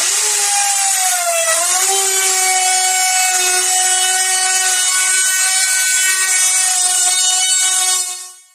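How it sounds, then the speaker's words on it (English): Router with a 1/2 inch cove bit cutting along the outer edge of a wooden mirror frame, a loud continuous high whine with a slight pitch dip early on, ending as it cuts off. "we're going to take our router and go along the whole outer edge of this with a 1/2 inch cove bit"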